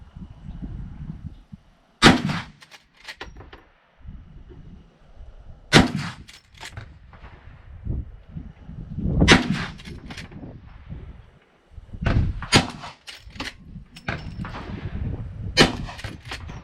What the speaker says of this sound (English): let's send a couple more rounds down range